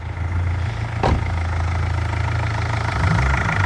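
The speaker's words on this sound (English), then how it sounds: "Let's have a little listen to the engine." An MG ZR car engine idling, likely an M47R unit, a loud close steady low rumble with a brief sharp tick near the first second and a slight change in tone toward the end.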